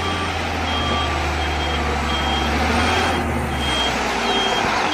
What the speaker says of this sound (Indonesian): Lihat teman-teman, ini adalah truk mixer.